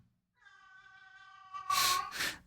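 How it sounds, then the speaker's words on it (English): Pet cat meowing to be played with, one long drawn-out tonal meow that rises in strength, followed by two short breathy bursts, heard close and alone in a quiet room. "My cat wants to play."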